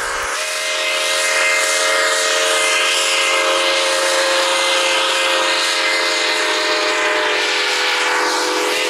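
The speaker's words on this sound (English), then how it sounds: "We're just gonna get the steam engine here" A steam locomotive excursion train rolls steadily past, a sustained broadband rumble with sharp tonal whistle harmonics ringing through nearly the whole stretch.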